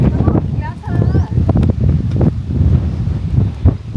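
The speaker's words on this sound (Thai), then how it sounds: "ลมแรง" Strong wind buffets the microphone atop the prang of Wat Ratchaburana, an old hilltop-style temple in Ayutthaya, roaring and gusting steadily throughout with a voice talking over it.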